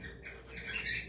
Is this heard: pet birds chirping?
yes